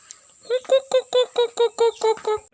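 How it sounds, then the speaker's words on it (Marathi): Chickens and a rooster kept at a village house in Burambawade, Devgad, in Konkan; a close, loud run of about nine evenly spaced clucking calls over a faint steady high hum. "त्याच्यात कोंबडी राहतात इथे एक वाटते अजून एक कोंबडा आहे"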